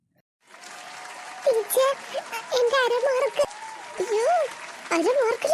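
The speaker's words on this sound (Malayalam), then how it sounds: "ക്ലാപ്പ് എടുത്താടേ" Children in a classroom clap together after a teacher reads out an exam mark, a steady patter of small hands under a voice and children's chatter.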